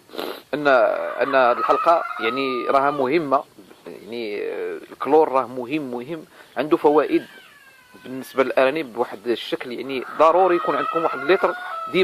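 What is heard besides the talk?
chickens clucking while laying eggs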